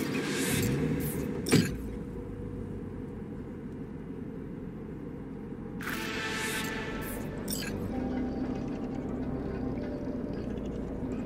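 A car driven through the streets in the Cyberpunk 2077 video game, a steady engine and road rumble running throughout, with a short sharp thump early on and brief brighter whooshes of passing traffic midway.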